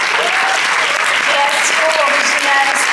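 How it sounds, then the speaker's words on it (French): Loud, sustained audience applause for prize winners at an awards event, a dense, even roar of clapping with cheering voices and a few calls mixed in. "On peut les applaudir."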